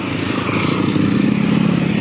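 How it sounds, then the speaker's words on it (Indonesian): Motorcycles pass along a residential housing-estate street, a loud continuous engine drone with a steady mid-pitched throb and a slight swell midway, no voices heard. "Banyak banget motor."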